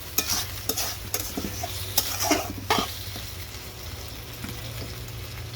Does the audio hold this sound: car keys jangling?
no